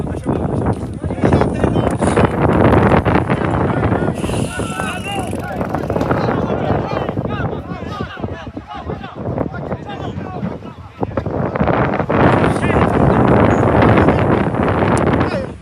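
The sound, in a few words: wind blowing across an outdoor football pitch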